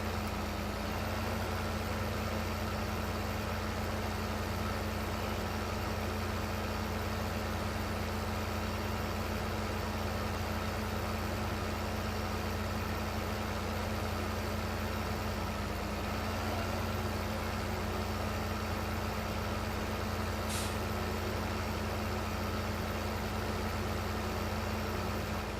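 Big tractor engine idling in Farming Simulator 15: a steady, low mechanical drone that holds unchanged throughout at moderate level, with no talking.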